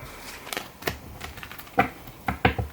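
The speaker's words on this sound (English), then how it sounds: "this is going to take a little bit to shuffle the cards" Playing cards being shuffled at a table during a poker-themed tarot reading, a few separate riffling bursts and soft clicks with quiet pauses between them, close and fairly faint, with no talking.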